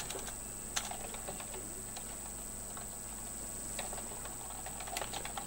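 Keys tapped on a computer keyboard while text is entered, a quiet run of light, irregular clicks over a steady background hum, with a few sharper strokes standing out.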